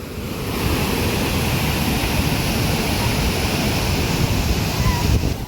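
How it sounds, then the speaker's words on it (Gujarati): Rainwater rushing like a waterfall beside a village lake after heavy rain, a continuous loud roar of churning water, steady and close throughout. "અહીંયા મસ્ત ઝરણા ઘોડે પાણી જાય છે."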